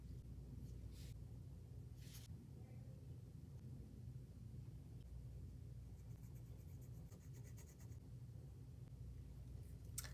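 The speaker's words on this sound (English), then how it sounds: "I'm going to take my favorite fine liner again and just write "boo" down here real quick" A fine liner pen writes a short word on watercolor paper in a few faint, quick scratchy strokes, heard close over a steady low background rumble.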